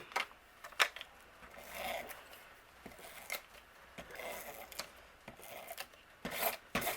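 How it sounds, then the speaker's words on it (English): Tape runner pressed and dragged across a card panel during card making, a series of short soft rasping rubs and clicks, fairly quiet and close, with no talking. "So let's go ahead and tape this down. I'm going to use my tape runner."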